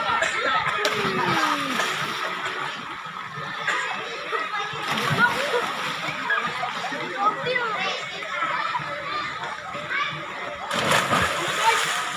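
Splashing water as someone jumps into a shallow swimming spot on a relaxing outing, with bursts of sloshing around 5 and 11 seconds under steady chatter of adults and children nearby.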